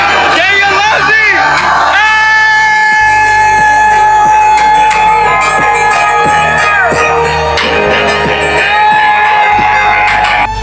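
A large Kenyan street crowd yells, whoops and cheers continuously, loud and close, with bellowing voices overlapping into a dense roar throughout.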